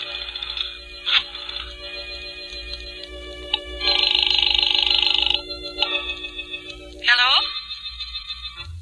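A telephone rings after a number is dialed in a radio drama, with several bright, separated rings and mechanical clicks, one longer burst in the middle, heard alone without talk.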